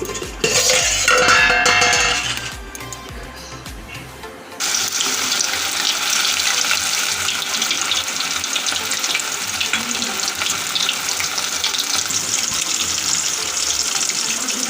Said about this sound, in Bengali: এবার আমি কড়াতে তেল দিয়েছি, এবার এই মাংসগুলোকে আমি ভেজে নেব।